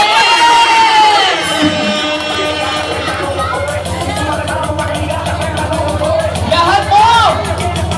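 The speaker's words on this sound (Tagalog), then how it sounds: "Isang masigabong palakpak!" Wedding guests cheering and shouting during the groom and bride's dance, a loud lively crowd with whoops, children's shouts and voices over music, swelling again toward the end.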